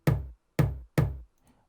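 Drum toms from a sample pack strike three times in quick succession, each a deep, punchy hit with a short decay, played alone and close, followed by a faint trailing sound.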